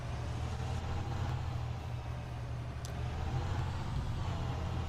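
A Blue Bird WorkStar bus drives along in the Rigs of Rods simulator, its engine giving a steady low rumbling drone that stays constant and fairly loud with no talk.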